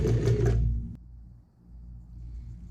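A sewing machine backstitches to finish a seam on a messenger bag, in a short, loud burst of stitching that stops abruptly, leaving a low hum.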